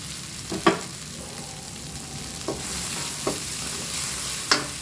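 Small catfish stir-fried in a pan with chili for a Thai basil dish, a steady sizzling hiss punctuated by a few scraping stirs of the spatula.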